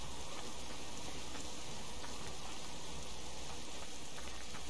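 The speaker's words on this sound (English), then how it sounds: "Probably should go wait until it stops raining." Steady, dense rainfall in the video game Subsistence hisses continuously, an even wash of patter with no gaps or voices.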